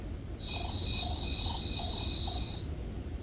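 Crickets chirp steadily in a continuous high-pitched trill over low background hiss, with no voices.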